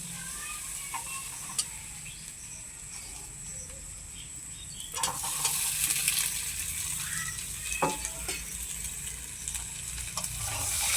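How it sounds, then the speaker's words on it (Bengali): Fried potatoes being stirred into a fried spice paste in hot oil, giving a steady low sizzle with scattered scraping knocks of the spatula against the pan, no talking. "মশলার সঙ্গে আলুগুলোকে ভালোভাবে আমি মিশিয়ে নেব"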